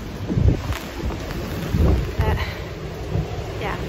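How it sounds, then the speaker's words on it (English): Torrential rainstorm with 40 mph winds, heard outdoors on a walk: a dense, steady roar of rain and wind buffeting the microphone, with louder gusts swelling through. "40 mile an hour winds and torrential rain"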